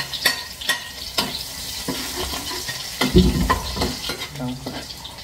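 Onion and garlic sautéing in cooking oil in a pan while making fried rice, with a steady sizzle broken by repeated scraping and stirring strokes of a utensil, close and fairly loud.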